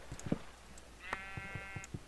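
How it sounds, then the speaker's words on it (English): A sheep in Minecraft gives a single drawn-out bleat, clear and fairly close, amid soft footsteps and small game sounds. "Oh, here comes a sheep."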